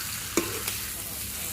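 Pork stir-fries in a pan over an open fire with a constant close sizzle, broken by a couple of sharp scrapes or clacks of a stirring utensil.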